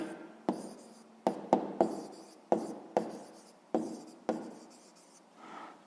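Pen writing a math answer on paper, a series of sharp strokes and scratchy scrawls close up, eight quick marks spaced irregularly, with no talk.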